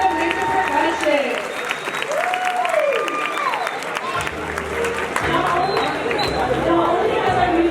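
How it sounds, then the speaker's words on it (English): A crowd at a high school spring rally applauds a school percussion group with a sustained round of clapping and cheers, while an amplified voice talks over it. "let's give it a round of applause for Jacob and the rest of Mr. Percussion."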